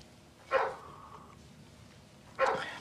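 Two loud, close barks from a dog, the first trailing into a short whine, separated by a quiet pause over faint room noise.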